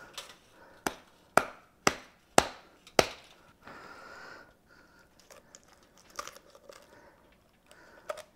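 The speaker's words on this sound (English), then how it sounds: "We're just cutting right through those ribs." Kitchen shears snip through the ribs of a raw Thanksgiving turkey being spatchcocked, giving five sharp, evenly spaced crunching cuts up close, then softer scraping and crackling handling noises.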